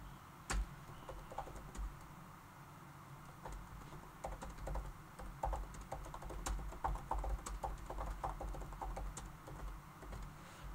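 Quiet typing on a computer keyboard while entering descriptive alt text for an image tag: irregular light key taps with a few sharper clicks, close but soft, running steadily throughout with no voice.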